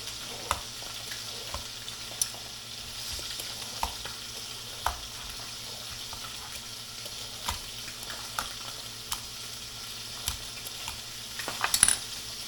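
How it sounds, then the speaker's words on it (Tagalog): Cooking oil sizzles and splatters in a pan during frying, a steady faint hiss broken by regular sharp pops and small clinks, with a brief cluster of louder crackles near the end and no speech. "Kasi talsik na mantika."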